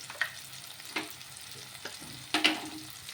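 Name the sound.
spices frying and being stirred in a pan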